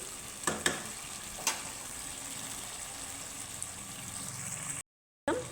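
Pumpkin frying in a pan with spices and green chillies, a quiet, continuous sizzle with a few stirring scrapes near the start and a brief dropout near the end.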